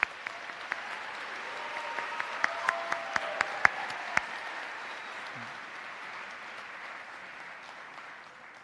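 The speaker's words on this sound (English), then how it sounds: "Please join me in a round of applause for the family and friends joining us today." Applause at a dental school white coat ceremony, a large audience clapping in a broad steady wash with a few sharp nearby claps standing out, gradually fading toward the end.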